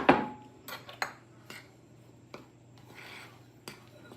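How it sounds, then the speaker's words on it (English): A spoon stirs graham cracker crumbs into melted butter in a bowl for a crust, giving intermittent clinks and scrapes against the bowl with quiet gaps between them and no talking. "I want to mix those two together to make my crust"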